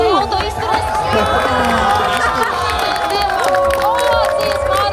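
A dense outdoor crowd at a Red Bull soapbox race in Talsi cheers and whoops loudly as a pickled-cucumber themed cart crosses the finish line, with a commentator talking over the roar.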